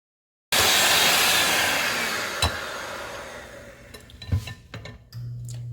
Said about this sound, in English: let's go ahead and whisk that in there